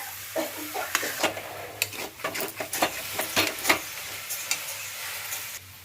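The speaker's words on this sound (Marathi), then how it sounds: "एकसारखं मिश्रण आपण हे एक पाच मिनटं परतून घ्यायचं आहे" Mashed potato mixture for aloo paratha being sautéed and stirred in a pan, with repeated scraping spoon strokes over a low sizzle, close up and steady for several seconds.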